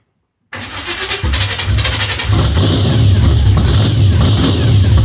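A 1995 Pontiac Trans Am cranks and fires up on choke, the engine catching after a brief silence and settling into a loud, rough, rising run that holds steady and close without idling down.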